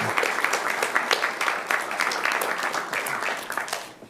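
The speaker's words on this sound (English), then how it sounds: "please give him a round of applause" Sustained audience applause fills a school event honoring students and families, a dense steady wash of many hands clapping close by and tapering slightly near the end.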